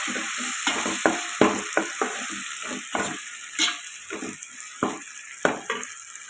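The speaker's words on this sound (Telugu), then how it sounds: "ఇప్పుడు టమాటా ప్యూరీ వేసుకున్నాం. ఇది కూడా పచ్చివాసన పోయేదాకా ఫ్రై చేసుకున్నాం." Tomato puree frying with ginger garlic paste sizzles steadily close by, broken by repeated stirring scrapes of a spoon in the pan, with no talk.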